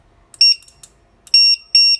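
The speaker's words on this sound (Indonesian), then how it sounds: "Mesin tidak nyala tapi yang bunyi adalah apa? Alarm." A motorcycle anti-theft alarm, triggered when the engine is started with the security lock set, gives three loud high-pitched electronic beeps in an uneven rhythm, close by, with nothing else around them.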